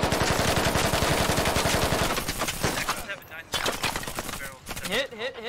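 Rapid automatic gunfire from Squad rattles in a fast, steady burst, then breaks into scattered shots and cracks, close and loud, with voices talking over the later part.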